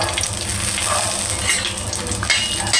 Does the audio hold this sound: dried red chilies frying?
yes